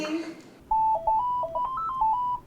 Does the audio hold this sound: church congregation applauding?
no